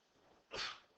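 A single sharp sneeze bursts out after a moment of near silence, close and fairly loud, with no talking around it.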